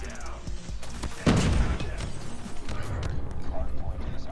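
A Striker shotgun fires in COD Mobile with one heavy, loud blast that stands out from a busy mix of game effects, scattered impacts and mechanical clatter.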